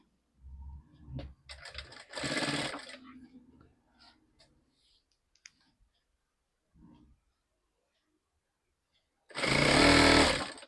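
Sewing machine double stitching fabric: a short buzzing run of stitches, then quiet handling, then a second loud, steady burst of stitching near the end.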